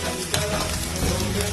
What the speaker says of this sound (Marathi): त्यामध्ये उकडलेला बटाटा फ्राय करून घेतला।